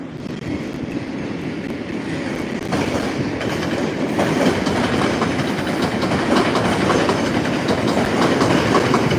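An MBTA Orange Line 1500-series train rolls through Forest Hills station, a steady rumble and wheel clatter that swells louder partway through and holds close and continuous to the end.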